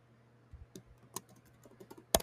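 Soft, sparse keystrokes on a computer keyboard while typing column headings into a spreadsheet, with a louder final key press, quiet and close.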